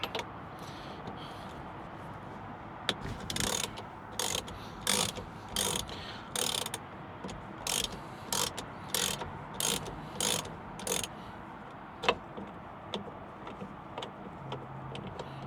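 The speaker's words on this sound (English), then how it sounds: "For this I'm going to use a 1/2 inch ratchet with a 21mm socket" Half-inch ratchet with a 21mm socket loosening the steering wheel center nut on a Mazda MX5 NB, giving a series of close, regular ratcheting clicks in short bursts with brief pauses between strokes.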